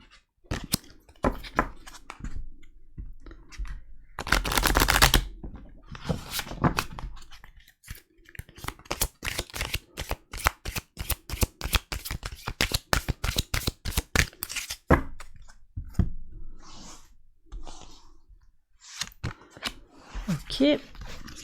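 Tarot cards being shuffled during a reading, a long run of rapid riffling flicks in quick bursts, close and crisp, with a soft voice speaking now and then between them.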